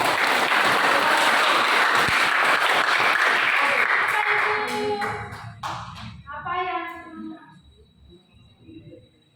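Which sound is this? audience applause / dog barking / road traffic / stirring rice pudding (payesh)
audience applause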